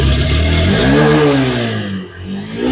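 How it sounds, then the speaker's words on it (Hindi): A Honda SP125 motorcycle exhaust revs up close and loud, the engine pitch rising and then falling away. "आप एग्जॉस्ट का साउंड भी एक बार सुन लें"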